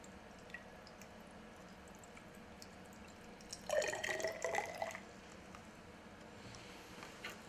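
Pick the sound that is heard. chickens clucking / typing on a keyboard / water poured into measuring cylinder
water poured into measuring cylinder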